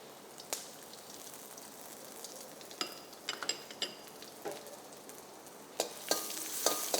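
Chopped onion with curry leaves and dried chillies sautéing in oil for a mushroom masala, a soft steady sizzle broken by a few sharp scrapes and clinks of a spoon stirring against the pan.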